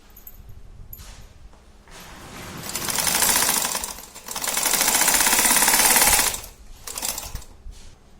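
Electric sewing machine stitching homemade socks, running in bursts of rapid stitching that start and stop, with a quieter pause between two longer runs and a short final burst.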